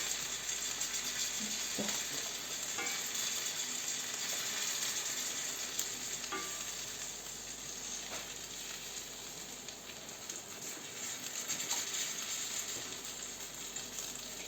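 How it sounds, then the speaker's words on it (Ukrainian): Meat sizzles steadily in a hot frying pan, a continuous crackling hiss with a few faint scrapes and clinks. "Обертати пару разів, аби просмажилося м'ясо файно."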